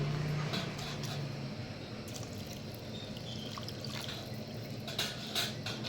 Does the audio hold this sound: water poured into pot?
yes